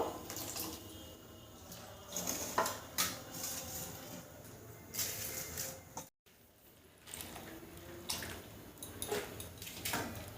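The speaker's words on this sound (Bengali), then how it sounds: "একটু গরম জল দিয়ে ধুয়ে নিতে হবে, এই সিদ্ধ করে নিতে হবে। 2 থেকে 3 বার কিন্তু ধুয়ে নেব।" Garden vegetables are washed by hand in water in a village kitchen, with irregular splashes and sloshing bursts, separated by quieter gaps and one brief silence, close by.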